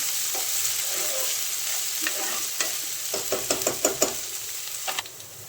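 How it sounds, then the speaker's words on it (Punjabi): Garlic and ginger fry in a pan on low gas with a steady soft sizzle, while a spoon stirs and scrapes and taps out a quick run of clicks near the end, with no voices. "ਇਹਨੂੰ ਆਪਾਂ ਹਿਲਾ ਲਾਂਗੇ ਜੀ ਚੰਗੀ ਤਰ੍ਹਾਂ ਚਮਚ ਨਾਲ ਤੇ ਗੈਸ ਆਪਾਂ ਇੱਥੇ ਬਿਲਕੁਲ ਘੱਟ ਰੱਖਾਂਗੇ ਘੱਟ ਗੈਸ ਤੇ ਭੁੰਨਾਂਗੇ ਆਪਾਂ ਇਹਨੂੰ"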